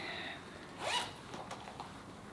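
A zipper on a small white Oroton coin purse wallet runs in one quick, close pull lasting under a second, with faint fainter rasps following against a quiet room.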